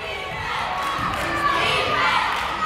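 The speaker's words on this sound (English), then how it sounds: "As the crowd makes itself heard" A crowd at a women's college basketball semifinal cheers and shouts loudly and continuously, with the roar building slightly over the few seconds.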